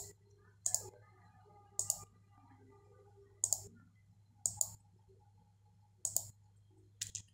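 Sharp, quiet clicks of a computer mouse or keyboard during AutoCAD 2022 work, arriving singly or in quick pairs about every second over a low steady hum, with no talking.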